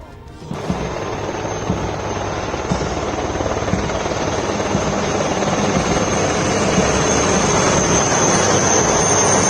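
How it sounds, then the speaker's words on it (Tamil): Loud, continuous whir of a helicopter rotor and engine, rising in intensity after a sudden onset and holding steady overhead as it showers flowers on soldiers. "ஹெலிகாப்டர் மூலம் மலர் தூவி வாழ்த்து"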